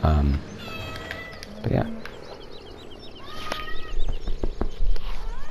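A cat meows a few times, close by, in the game Farming Simulator 17, with a person speaking briefly and some background rustling.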